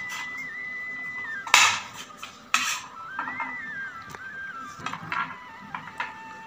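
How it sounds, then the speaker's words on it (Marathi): A knife chops soaked almonds on a board in a home kitchen, with a few sharp knocks and quieter intermittent cutting taps over a faint tonal background hum. "अशा प्रकारे सर्व बदाम मी कट करून घेत आहे।"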